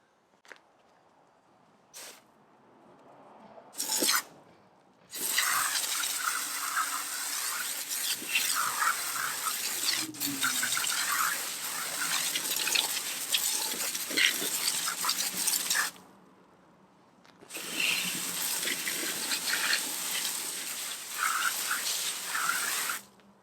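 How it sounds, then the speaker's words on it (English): Dirty car wheels and tires being rinsed with water after foaming with a wheel cleaner: loud, hissing spray runs in two long bursts, separated by a short pause, with brief spurts at the start. "So let's get to rinsing it off."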